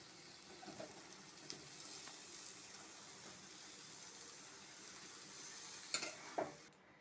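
Banana flower poured into hot spiced masala in a pan, giving a faint, low sizzle with soft stirring and a few light clinks, quiet and steady throughout.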